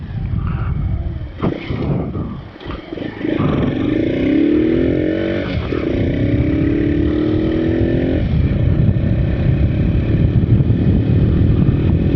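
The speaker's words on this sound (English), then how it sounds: "This thing does pretty good for just a brand new 19 mile only little 140cc China bike." A brand-new RPS Racer 140cc Chinese motorcycle on a ride, its small engine droning loudly and steadily with a rising rev and wind rush, while a rider talks over it.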